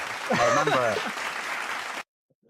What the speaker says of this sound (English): Let's get a clap. Let's get a clap.